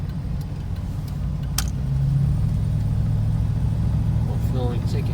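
Truck with an LSX V8 engine idling as it warms up, a steady low rumble that holds close and even throughout with no revving, a faint tone settling in partway through.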